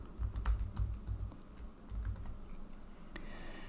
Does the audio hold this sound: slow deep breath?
no